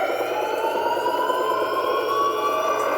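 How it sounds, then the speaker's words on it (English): A loud, continuous alarm siren with slowly rising and falling tones drones steadily without pause. "the only thing we, the audience, hear is a persistent alarm siren"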